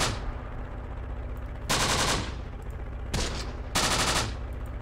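Machine gun fire in the WWII strategy game Close Combat, repeated bursts of rapid automatic shots over a low rumbling battle background, moderately loud with short gaps between bursts.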